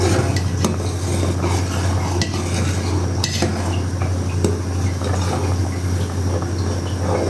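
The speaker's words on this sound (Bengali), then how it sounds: "এখন আমরা আবার নাড়া দিব।" Steady clatter and scraping of a utensil stirring Thai soup in a cooking pot, with faint liquid sloshing and metal clinks over a constant low stove or fan hum; no one talks.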